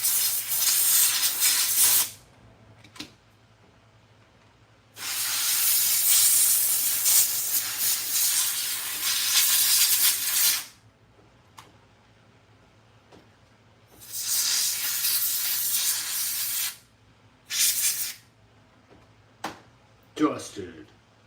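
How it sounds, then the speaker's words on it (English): Aerosol spray hisses in three long bursts of several seconds each while used slot cars are cleaned, with short puffs and quiet gaps between bursts over a low steady hum. "Spraying all this stuff everywhere."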